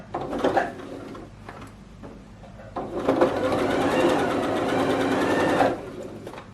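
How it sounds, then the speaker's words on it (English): Sewing machine stitching elastic onto a milkmaid dress, a short run of rapid mechanical stitching followed by a longer steady burst, close and clear with light background rustle. "now so you pull your elastic just like this, and then you stitch at the middle"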